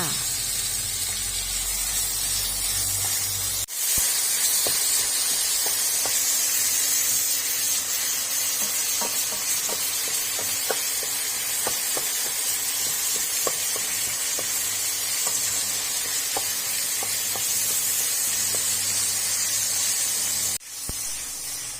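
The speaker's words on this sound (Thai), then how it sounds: "เราก็จะผัดหมูไปเรื่อย ๆ นะคะ จนกว่าหมูของเราจะสุกดีค่ะ" Pork stir-fried in a hot pan while making Thai spring rolls, a steady loud sizzle and hiss with scattered small crackles and pops, continuing almost the whole time with brief breaks where the pan quiets.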